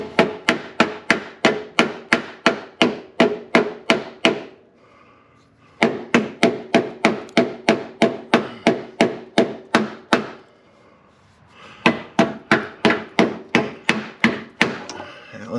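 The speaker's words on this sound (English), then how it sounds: "Let's give it a couple of whacks." A hammer strikes the rusty rear wheel well of a car in three quick bursts of close, loud, evenly spaced whacks, each run about a dozen blows long, with short silent gaps between.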